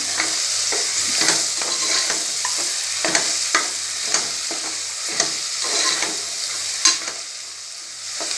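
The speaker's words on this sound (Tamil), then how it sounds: "இப்போது தக்காளி ஆட் பண்ணிக்கிறேன். இதுவும் நல்லா வதங்கட்டும்." Chopped tomatoes sauté in a pan while cooking egg biryani, a steady close sizzle broken by repeated scraping stirs of a spoon through the mixture, with no voices.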